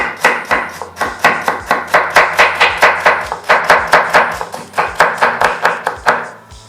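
A knife chops carrots on a cutting board in quick, even strokes, around two dozen crisp close-up knocks in a steady rhythm with a short pause midway, no talking.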